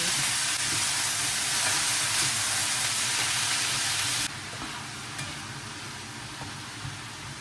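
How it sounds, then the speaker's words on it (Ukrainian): Loud, dense sizzling of chanterelle mushrooms frying over high heat in a pan that drops in intensity partway through, with occasional stirring clicks. "І буду обсмажувати на великому вогні"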